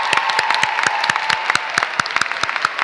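An audience applauds graduates at a spring commencement ceremony: steady, dense clapping with sharp, regular hand claps throughout, loud and close.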